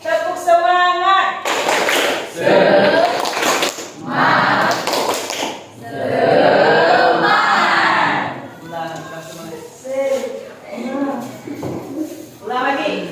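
A group of teachers performs a rhythmic spirit clap, loud bursts of clapping in set patterns alternating with chanted voices and spoken prompts.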